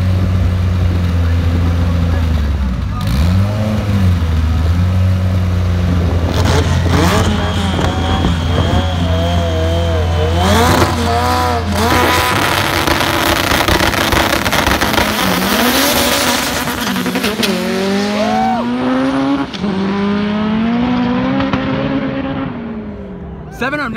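A 1000-horsepower Honda Civic hatchback drag car at an import versus outlaws drag race launches with a loud revving engine, rising and falling pitch through gear changes, then roars off down the strip, with crowd voices underneath.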